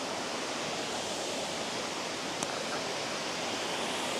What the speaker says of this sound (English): That was down on the lower end of this spillway